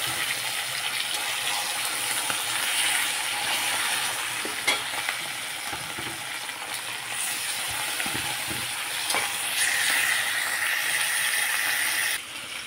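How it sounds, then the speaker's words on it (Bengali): Fish frying in a pan, a continuous bright sizzle and hiss with occasional stirring scrapes, close and steady throughout. "বাকি মাছগুলো আমি একটু কষে ভেজে নেব।"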